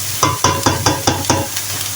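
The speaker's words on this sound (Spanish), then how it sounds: "Acá tenemos mi cebolla que está friendo" Onion frying in a pan while a spoon stirs it in six quick, even strokes over a steady sizzle, close and clear with no talk.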